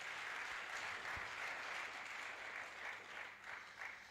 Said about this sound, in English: Let's give a round of applause again to Professor.